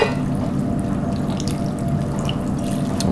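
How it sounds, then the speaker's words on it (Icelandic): Crowberry juice poured over slow-cooked meat and vegetables, a continuous close splashing, trickling pour of liquid that runs steadily throughout with no talk. "Svo hreinlega bara helli ég krækiberjasafanum yfir"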